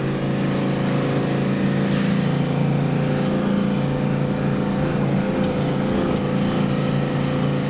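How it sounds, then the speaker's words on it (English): An old diesel engine in a vehicle driving through burnt bushland runs hard at high revs, around 3,200 rpm, near the point of valve bounce, giving a loud, constant drone with strong tonal harmonics and no talking. "The old diesel sounds as if it's just about valve bouncing"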